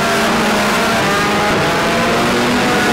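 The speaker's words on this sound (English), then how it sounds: "with Danny going well in his 1300cc stock car" Several 1300cc stock cars race at Mildenhall, making a loud, steady, continuous engine roar with a sustained droning whine and no break.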